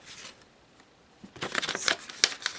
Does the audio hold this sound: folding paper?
yes